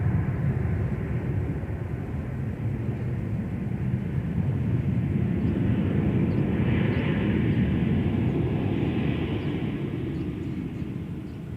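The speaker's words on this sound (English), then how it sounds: "And there's our Southwest flight from Las Vegas." A Southwest airliner arriving from Las Vegas at Minneapolis airport makes a loud, steady jet rumble that holds for the whole stretch and swells slightly in the middle, with no talk over it.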